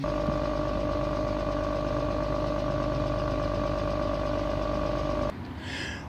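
A 2007 Hyundai Tucson engine idles steadily, heard close at the exhaust with a constant hum, then the sound abruptly drops off near the end.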